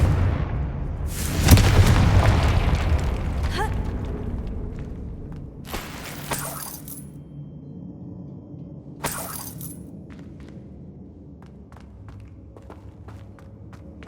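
In Hogwarts Legacy, a Confringo blasting spell goes off with a big booming explosion that fades slowly. Sharper crashing bursts follow, then quieter scattered debris ticks and light footsteps.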